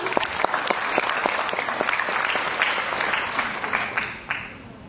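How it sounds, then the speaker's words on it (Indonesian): Audience applause at a ceremony marking a cooperation between FKM UI and Yayasan Honda Motor Astra, a dense, steady round of clapping from a seated crowd that carries on throughout and tapers off near the end. "Boleh beri tepuk tangan juga para hadirin."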